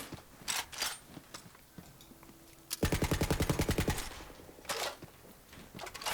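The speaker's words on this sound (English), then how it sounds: "Let's try out this weapon, see what it's like. Okay, that certainly seems like an assault rifle." Assault rifle fire in Borderlands 3, a fast burst of about a dozen evenly spaced shots lasting a second, set among scattered clicks and swooshes of in-game action.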